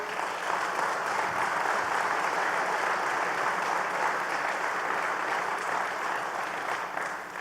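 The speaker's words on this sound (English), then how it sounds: "Let's give him a round of applause." An audience at an Alcoa Massena jobs announcement gives the plant manager a steady, even round of applause that lasts the whole stretch, with no voices over it.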